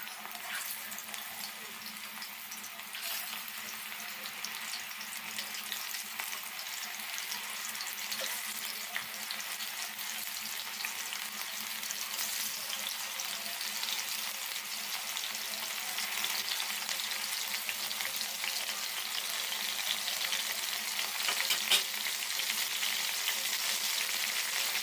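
Wild edible mushrooms frying in hot oil in a pan give a steady, fairly quiet sizzle and crackle that runs without a break and swells slightly toward the end.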